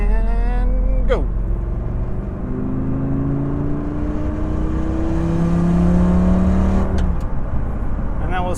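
A 2004 Lamborghini Gallardo accelerates hard from 40 mph, its engine climbing in pitch through gears with a brief shift and a rising roar heard from inside the cabin, a voice speaking briefly over it.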